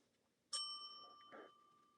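A single bright bell ding marks the page turn in a reading of The Berenstain Bears Go to School, struck once and ringing on with a sustained tone, followed by a softer second strike.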